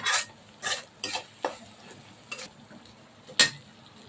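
Spices frying in a pan for a dish of head meat, stirred in a few distinct scraping, sizzling strokes with quiet gaps between them, close and fairly soft.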